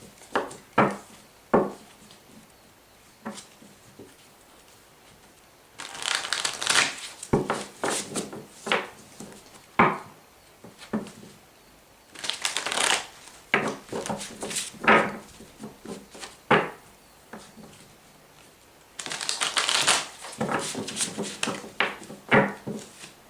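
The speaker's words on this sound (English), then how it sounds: "it's extremely difficult for me to shuffle" Stiff tarot cards are shuffled by hand in repeated bursts of riffling and rubbing, close and fairly quiet, with short pauses between rounds.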